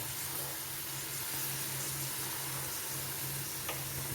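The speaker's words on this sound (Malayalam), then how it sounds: "ഇനി ഇതിവിടെ ഇരുന്ന് ഒരല്പം ഒന്ന് വഴന്നു വരട്ടെ" A tomato and spice mixture for fish curry sautés gently in a pan, a steady soft sizzle running evenly throughout, close and unbroken with no talk.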